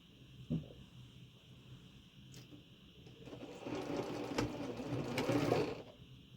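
A sewing machine stitching quilt block seams whirs quietly in short starts, then runs in a longer, steadier burst that grows louder toward the end.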